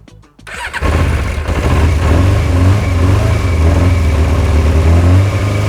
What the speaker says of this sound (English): So I now have the motorcycle purely on this fuel bottle. Let's see if it runs now.